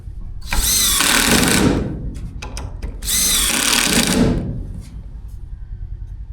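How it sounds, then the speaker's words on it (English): A power drill drives screws through a 2x4 into a barn wall in two loud, close bursts of high whirring, each lasting about a second and a half, separated by brief clicks and a short pause. "You just unscrew it and move it in the barn and screw it to the wall and start watching."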